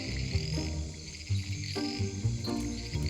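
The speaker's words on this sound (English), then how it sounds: "she's heading towards the noisiest call, because loud calls come from big frogs" Loud, repeated frog calls in rhythmic bursts from a rainforest canopy, with insects chirping continuously in the background.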